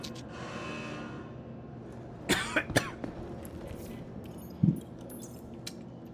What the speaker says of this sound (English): Sounds like you're coughing.